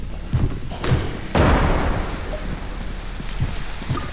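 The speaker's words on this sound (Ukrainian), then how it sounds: "Він кидає бомби, а вони взриваються." Bombs explode in the Content Warning video game, with several dull, heavy thuds and one bigger booming blast followed by a rumbling wash, moderately loud against background game noise.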